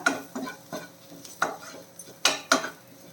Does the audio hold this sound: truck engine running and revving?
no